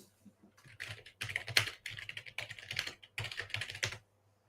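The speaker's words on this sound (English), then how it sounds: "I'm not sure if you guys can hear the keystrokes" Rapid keystrokes on a computer keyboard come in uneven bursts with short pauses between them, close and clear, with no talking over them.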